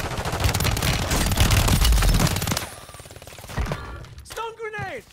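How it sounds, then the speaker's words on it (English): Rapid automatic gunfire in the Warzone video game rattles loudly for about two and a half seconds, then gives way to quieter game sounds and a voice. "there's more shooting me though"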